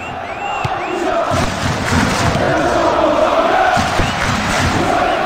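A football video game stadium crowd, PES 2019 on PS2 with Liverpool against PSG in the Champions League, roars steadily and loudly throughout, with swelling cheers and chants, distant whistles and dull thuds, and no clear talk.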